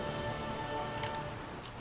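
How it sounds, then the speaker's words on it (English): Rain falls steadily in The Witcher 3, a soft continuous hiss of drops on surfaces under a low ambient game hum, with no talking. "Looks like rain."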